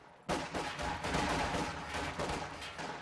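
Gunfire in a video game battle under sniper fire, a dense burst of rapid shots erupting after a brief quiet and continuing loud and close throughout.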